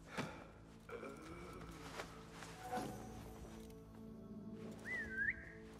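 A character in Assassin's Creed Mirage gives a short, rising whistle near the end, after soft footsteps and clattering game sounds.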